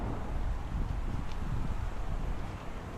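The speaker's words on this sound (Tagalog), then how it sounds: "Mahangin kasi. Ang hangin, tapos malamig." Wind buffets the microphone in a steady, low, rumbling rush with gusty fluctuations and no voices.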